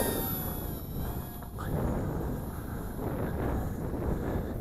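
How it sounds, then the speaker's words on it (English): Steady wind buffets the microphone at an RC glider flight test, a low, continuous rushing roar that swells slightly in the middle. "That wind's picking up again."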